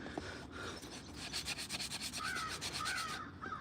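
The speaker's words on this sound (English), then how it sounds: "Yeah, I hear you, crows." Crows caw repeatedly in the distance during outdoor spoon carving, while a close scraping, rubbing rasp of a tool on wood continues steadily underneath.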